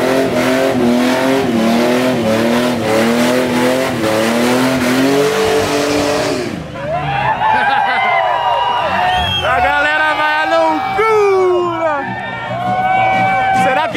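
A twin-turbo Dodge revs hard and accelerates up close on a drag strip, its engine pitch climbing and falling in repeated rising sweeps, with a crowd and tire noise around it.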